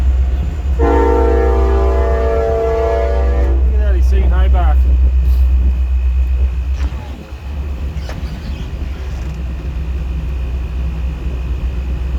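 A loud train horn blasts for a few seconds over the heavy rumble of a passing train, which keeps roaring steadily afterward.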